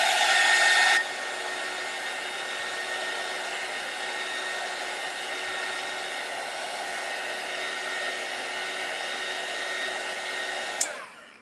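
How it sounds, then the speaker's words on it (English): A heat gun blows steadily while drying a handmade nativity card craft, a loud airy whoosh that starts strong, settles to a constant hum and clicks off at the end, with no talking. "So I'm going to hit it with the heat gun again."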